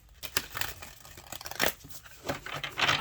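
An oracle card deck is shuffled by hand, producing close, crinkly rustling and flicking in irregular bursts, with no talking.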